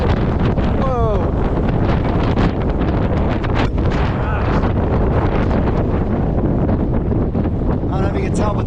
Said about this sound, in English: I don't know if you can tell, but the wind's pretty bad.